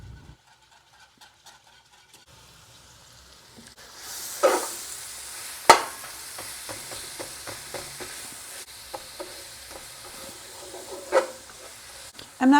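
Onions sautéing in butter and oil in a pan, a steady soft sizzle with intermittent scraping and stirring clicks, starting after a quiet opening and continuing at moderate level.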